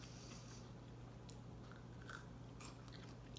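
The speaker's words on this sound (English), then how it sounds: "Did you hear the crunch?" Crisp crunches from biting into homemade low-carb sweet pickles crisped with lime, a few sharp bites close to the mic over a quiet background.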